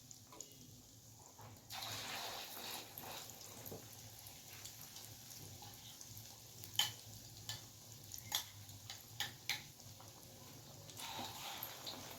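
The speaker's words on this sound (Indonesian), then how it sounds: "Setelah minyak panas, kita goreng perkedelnya." Tempeh patties (perkedel tempe) fry in hot oil over medium heat with a soft, steady sizzle, punctuated by occasional sharp pops and crackles; quiet and close, no talking.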